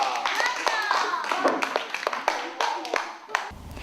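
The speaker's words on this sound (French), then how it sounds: "On applaudit Célina, Célina." Children clap their hands in a scattered, uneven patter, fairly close, while young voices chatter over the applause before it cuts off.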